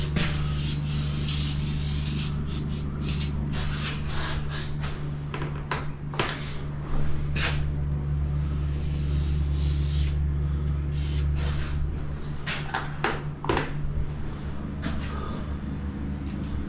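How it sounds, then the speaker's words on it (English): Aluminium trim in a tiled shower niche being wiped down to clear sprayed silicone, close rubbing and scuffing strokes over a steady low hum, with no talk. "So we just give that a quick wipe now."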